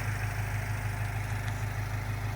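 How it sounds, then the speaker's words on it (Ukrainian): The 2.0-litre diesel engine of a 2010 Renault Trafic van idles steadily nearby, a low rumbling drone with a faint rhythmic clatter, continuous and unbroken, with no one speaking. "Чути, як мотор працює."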